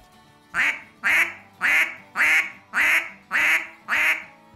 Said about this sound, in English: it sounds better with a little bit of a quicker burst of air with the quack and feed call